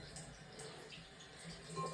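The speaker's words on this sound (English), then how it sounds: "I'll just add more water." Water is added to quilting fabric, heard as a soft, close trickle and splash of liquid that runs continuously and quietly for a couple of seconds.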